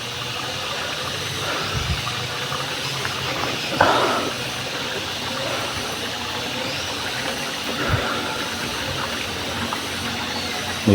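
Water flows steadily in a stream, a continuous close rushing wash with a few brief splashes and knocks along the way.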